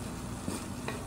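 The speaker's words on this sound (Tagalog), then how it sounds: "Pero kailangan halu-haluin na." Instant noodles with vegetables are stirred in a pan, giving a faint, brief scrape of a utensil over a soft sizzle.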